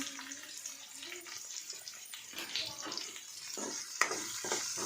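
Potato masala with chili powder fries in a pan at home, a faint, close sizzle with scattered stirring and scraping noises and a sharp clink near the end.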